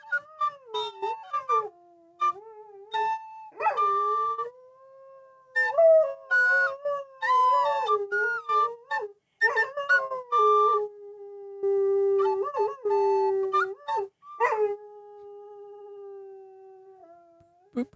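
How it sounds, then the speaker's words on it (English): Manny the dog howls along in a long singing sequence, sustained wavering tones broken by short yips and rising wails, loud and close with no talking. "And man, he's a level 9 singing dog."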